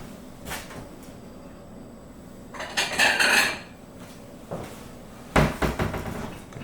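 A small bowl set down onto brisket soaking in brine in a container, giving a few close clinks and knocks of ceramic with a brief sloshing clatter in between, heard with no talking.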